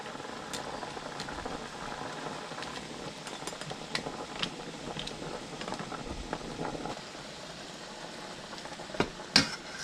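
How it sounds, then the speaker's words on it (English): A pot of water on a stovetop comes to a steady, continuous rolling boil with soft bubbling and patter, free of any voices, ending with a couple of brief louder knocks. "We're going to put that on the boil for 10 minutes."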